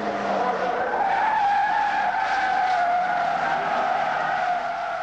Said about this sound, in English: The three green Avenger GTs of Bernard Unet, Jenny Birrell and Adrian Boyd, entered by Halesfield Motors, lead the third race at Silverstone from start to finish.